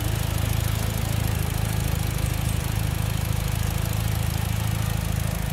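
A 2006 Mitsubishi Lancer Evolution IX MR engine idles steadily with a low, even throb, loud and close, running alone without pause.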